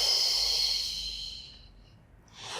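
A long, breathy exhale during a Pilates exercise trails off into quiet, followed by the start of another soft breath, close to the mic with no talk.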